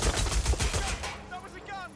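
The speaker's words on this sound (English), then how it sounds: "That was a gun!" Rapid burst of gunfire in the video game Watch Dogs: Legion, a loud string of sharp shots in the first second, then fading into quieter background game sounds.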